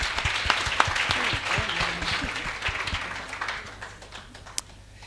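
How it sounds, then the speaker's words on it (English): Audience applause at an academic talk on entrepreneurship and rural development, a dense steady clapping from a room of people that thins and fades toward the end, with a few sharper individual claps standing out. "I think that deserves a round of applause."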